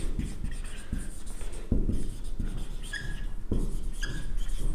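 Sentences are written on a classroom board, a series of scratchy taps and strokes coming in short bursts with brief pauses between them, quiet and close, with no voice.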